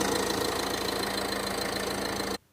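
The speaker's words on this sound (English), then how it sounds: "we've got the engine running, we've got the headlights on" A car engine idles steadily with the headlights on during alternator testing, a constant close hum that runs evenly, then cuts off abruptly near the end.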